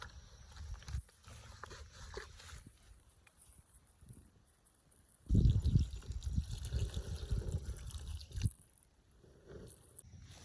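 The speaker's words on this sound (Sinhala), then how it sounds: "වතුර ටිකක් දාන්න." Water poured into a pot for cooking noodles at a night campsite, a short burst of splashing and gurgling that rises abruptly mid-way and trails off, close by and fairly quiet.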